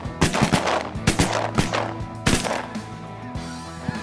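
Rapid volley of shotgun blasts fired at a flight of snow geese during a waterfowl hunt, about a dozen sharp, loud reports in uneven bursts, with goose honking faint in the background.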